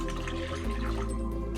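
Water poured into a cooking pot of jollof rice base made with leftover blended chili, a short steady liquid splash and gurgle close by, with no talk.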